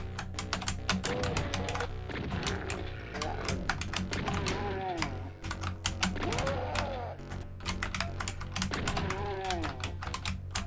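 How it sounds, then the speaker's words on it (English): Computer keyboard keys clicking in quick irregular bursts while Doom plays, the typing close and steady throughout, layered over loud game sound with music and effects. "Are you enjoying the clicking of my keyboard?"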